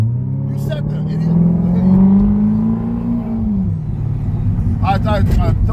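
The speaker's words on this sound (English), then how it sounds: "Man, that exhaust sound good though." A Ferrari's exhaust revs loudly nearby, its engine note climbing and easing back in a sustained rumble, while people talk over it.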